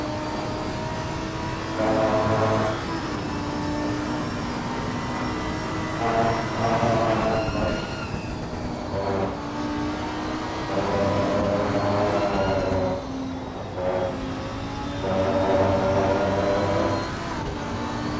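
Onboard a Lamborghini GT3 race car in Assetto Corsa Competizione, the engine note rising and falling through repeated gear changes and revs, loud and continuous with no talking over it.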